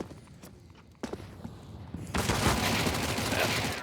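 Counter-Strike gunfire on the Train map cracks out, first a few scattered shots and footsteps, then a sustained dense burst of rapid fire and a grenade blast building to a loud finish.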